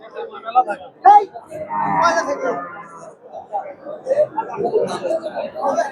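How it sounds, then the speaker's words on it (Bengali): A local native dairy cow, pregnant, lets out a long, close moo at the Dakumara cattle market in Bogura, with people talking before and after it. "এখানে একটা সুন্দর একটা গাভী দেখতেছি আমাদের এই যে দেখেন গাভীটা মাসাল্লাহ সুন্দর দেশি গাভী"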